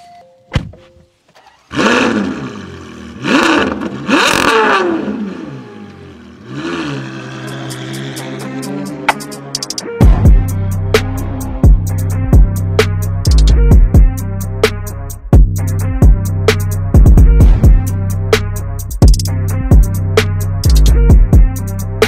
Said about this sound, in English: we go for a drive and enjoy that beautiful V12 symphony